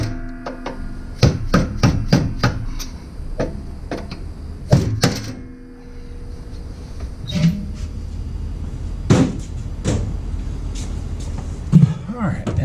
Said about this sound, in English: a dead blow hammer makes these easier to get these knockouts out